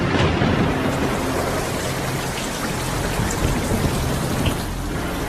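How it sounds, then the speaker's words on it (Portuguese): Steady heavy rain falling without pause, presented as liquid methane rain on Titan, with dense close patter and a faint low rumble underneath. "quando ocorre condensação aqui, chove metano"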